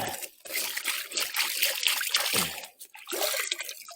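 Running water splashing and trickling as meat is washed, a close, continuous stream with brief breaks and sloshing.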